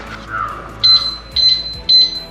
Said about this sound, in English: It's got an alarm system.